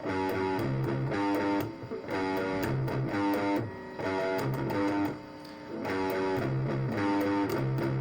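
A distorted electric guitar plays a short, chunky death metal riff in repeated phrases with brief pauses between, loud and gritty with no talking.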